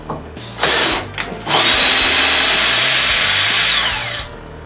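A DeWalt DCF620D2K cordless drywall screwdriver runs in close, loud bursts: two short spins, then a long steady whine that ramps down at the end.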